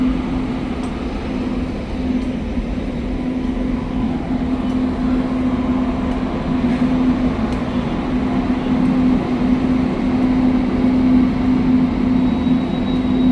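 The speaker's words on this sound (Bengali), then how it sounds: "ও পাশেও একটা ট্রেন এই মুহূর্তে এসে প্রবেশ করছে।" A goods train pulling into a railway station platform, a steady low rumble and drone with a sustained tonal hum and a few faint clanks, continuous throughout without voices.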